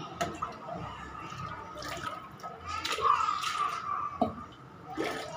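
Water trickles and drips steadily, with a brief splashy pour into a mixer jar partway through, in a kitchen, close by and moderately quiet.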